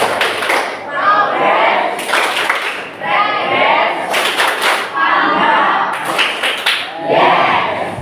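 A group performs a rhythmic clapping game in a classroom, bursts of claps and thumping beats coming in repeated patterned phrases, mixed with chanting voices between the rounds.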